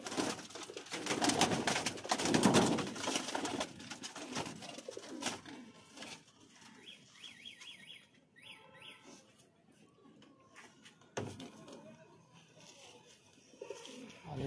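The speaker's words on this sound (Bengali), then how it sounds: "আর এটা আমার লফটের একদম সর্বপ্রথম পায়রা" Madras pigeons in a loft, with soft cooing and rustling, plus flutters and light pattering of movement; loud, busy activity close by at first, then quieter scattered calls and scrapes.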